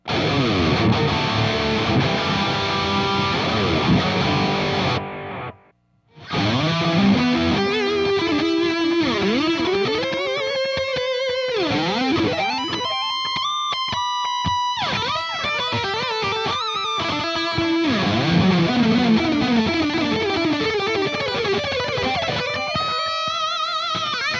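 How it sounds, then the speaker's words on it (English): Electric guitar through a Jeff Loomis Devil's Triad pedal's delay plays melodic phrases with repeating echoes trailing each note, a brief silent gap partway through, and no voices. "now let's mess around with the delay and reverb settings, starting with the delay."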